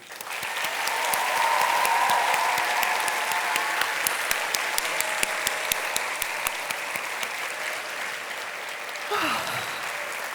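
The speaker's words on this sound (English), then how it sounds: "can we please give them a round of applause?" At the Carnegie Awards ceremony, an audience claps for long-listed authors and illustrators, a sustained round of applause that swells and then slowly thins, with scattered sharp individual claps near the end.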